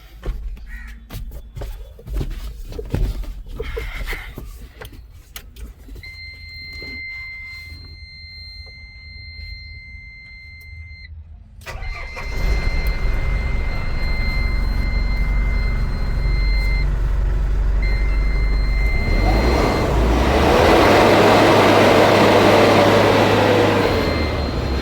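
An Ashok Leyland truck with an AdBlue fault and a reprogrammed ECU has its diesel engine started. After a quieter stretch of birdlike caws and tones, a steady, loud engine rumble takes over and keeps running to the end.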